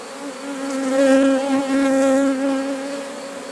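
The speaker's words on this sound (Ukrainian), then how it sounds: "Наче у відро пішла теж бджола." Close, loud buzzing of honeybees droning steadily as they enter a bucket hive, swelling and dipping slightly in volume over a few seconds, with no talking.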